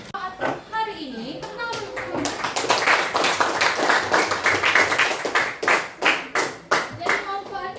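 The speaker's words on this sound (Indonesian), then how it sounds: "Tepuk tanganmu." A class of schoolchildren claps their hands in a lesson, a dense burst of sharp claps lasting several seconds, with children's voices talking around it at the start and end.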